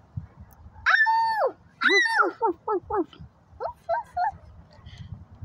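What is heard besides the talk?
dog barking and whimpering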